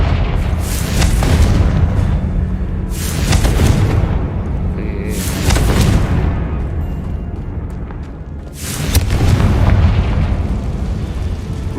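Repeated heavy booms from the Confringo fire spell in Hogwarts Legacy, four loud explosive bursts spaced a few seconds apart, each with a broad rumbling tail and no talk.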